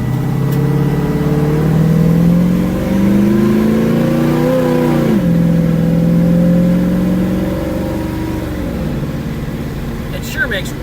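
A 1957 Chevrolet 150 with a 350 V8 and 700R4 overdrive transmission hums steadily at about 70 mph, its pitch rising and falling slightly as it drives along the road.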